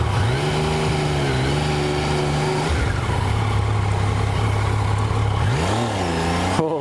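A 2016 Yamaha XSR900 motorcycle roars up through the revs under hard acceleration, its engine note climbing, dropping at a gear change, holding steady, then rising again, loud and close with no talking.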